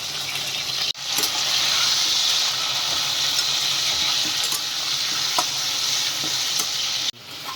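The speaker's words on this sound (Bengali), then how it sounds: "চিকেনগুলো একটু ভাজা ভাজা হবে" Chicken pieces fry in a pan with browned onions, a steady close sizzle and hiss broken by occasional stirring scrapes, with no voices.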